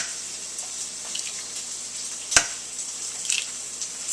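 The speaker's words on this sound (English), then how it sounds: "So you can hear it starting to sizzle" Bacon sizzling in a frying pan, a steady moderate hiss and crackle with a sharp clink partway through and a few small pops, close and alone without talk.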